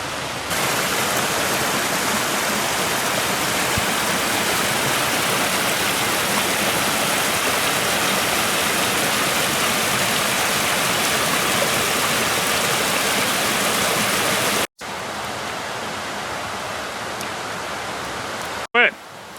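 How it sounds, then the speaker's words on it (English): A fast-flowing river with a strong current rushes loudly and steadily up close, a constant broadband roar that cuts off abruptly twice and briefly drops quieter. "That water's flying today. Got a lot of current."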